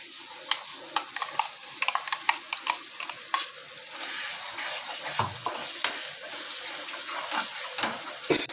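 Ginger garlic paste and masala paste sizzle steadily in a pan for a paneer curry, with repeated scraping clinks of a spoon stirring through the frying mixture, close and continuous.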